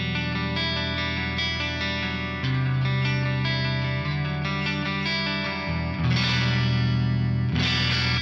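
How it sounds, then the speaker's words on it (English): Clean guitar amp tone with an analog mono chorus set to low depth, low delay time and a slow rate, heard as sustained strummed chords with a gentle shimmer and no talking. "kick in the analog mono chorus, low depth, low delay time, rate anywhere from 1 to 2 hertz"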